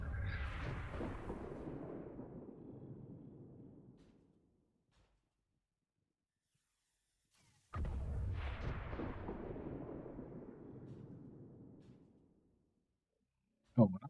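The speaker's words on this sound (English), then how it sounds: "That's of course the sticky bomb explosion." Two heavy booming sticky bomb blasts in a video game, each a loud deep impact followed by a long rumbling decay of about four seconds, separated by silence, with a third sharp hit starting at the very end.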